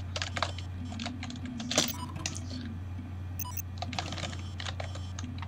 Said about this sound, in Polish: Fajnie, że tu jak się klika coś na klawiaturze, to dopiero pisze